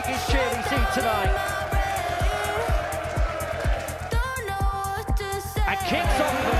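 A crowd at a live darts event cheers and whoops loudly and continuously, with a rhythmic thumping beat underneath and a commentator talking over the noise.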